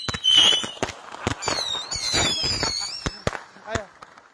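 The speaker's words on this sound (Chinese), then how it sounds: "我俩来放炮来了" Firecrackers set off outdoors at Chinese New Year pop in a ragged run of sharp bangs and crackles, some loud and close, with voices talking between them.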